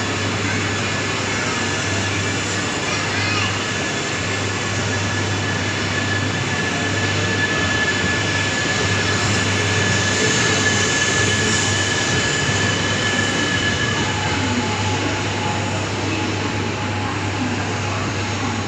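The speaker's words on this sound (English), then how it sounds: "The 3:04 train bound for Nagano is now arriving into platform 23." A Shinkansen bullet train arriving at a platform at a busy Tokyo station, a loud continuous rolling rumble with a steady low electrical hum and faint high whines that holds throughout.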